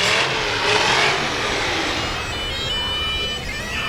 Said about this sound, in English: Well, I hear another hot rod car coming around the corner.